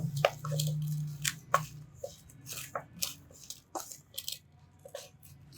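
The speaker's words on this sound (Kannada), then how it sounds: "ನಾನಿಲ್ಲಿ ಸ್ಪೂನಲ್ಲಿ ಕಲಿಸ್ತಾ ಇದ್ದೀನಿ" A spoon mixes thick mushroom kebab batter, making soft, irregular wet squishes and light scraping clicks, fairly quiet and without any voices.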